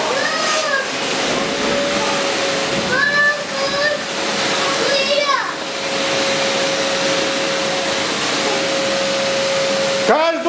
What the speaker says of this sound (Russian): Все пылесосят!